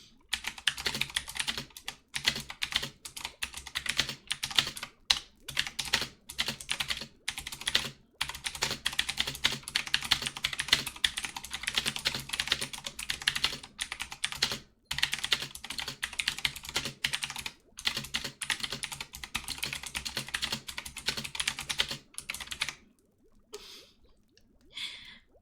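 Rapid typing clatters on a computer keyboard in a long continuous run of close, quiet keystrokes with brief pauses between bursts, ending with a few scattered taps.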